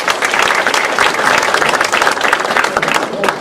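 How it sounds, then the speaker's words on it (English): A full room of people applauding at a presentation, dense continuous clapping at a steady loud level throughout, with no talk over it. "One more round of applause for Amy, which is wonderful."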